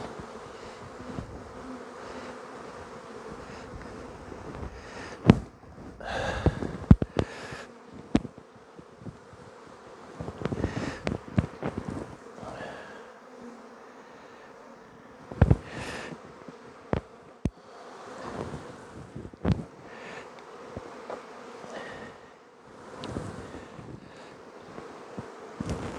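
Honey bees buzz steadily and up close while nucs are moved to new hives in cool weather, with a continuous drone under gusts of wind and handling noise and occasional louder passes of individual bees.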